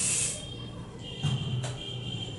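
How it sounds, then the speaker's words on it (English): An aerosol room freshener gives one short, close hissing spray burst, then cuts off into a quiet room with faint low background noise. "when I have sprayed this room freshener"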